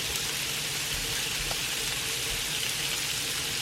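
Beef heart pieces frying in a generous amount of butter, a steady soft sizzle and crackle like light rain, continuous and fairly quiet with no talking.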